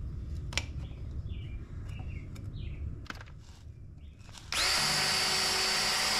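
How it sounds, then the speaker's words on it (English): A power drill bores through pre-drilled holes in wood blocking during a plumbing install, a sudden loud steady whine after scattered taps, handling noises and faint bird chirps. "Here I'm drilling through my pre-drilled holes so I can make marks on the center block"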